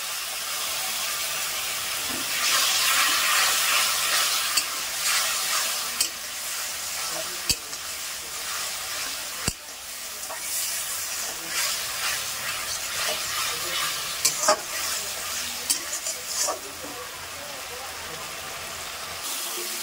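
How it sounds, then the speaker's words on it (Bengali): Spice masala being stirred with a little water in a pan, a continuous sizzle and steam hiss with irregular scraping stir sounds and occasional sharp clicks, close, with faint talk underneath at times. "তো এবারটা আমি ভালো করে নাড়িয়ে নেবো, আর যাতে মশলাটা এঁটে না যায় তো ওর জন্য একটুখানি জল দিয়ে দেবো।"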